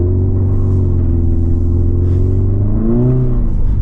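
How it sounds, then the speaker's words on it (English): 2024 Subaru Impreza RS accelerating hard from a complete stop in snow in sport mode, its engine rising in a loud, steady droning rev close by, with the pitch climbing and shifting near the end. "Now let's do a hard acceleration here in sport mode from a complete stop."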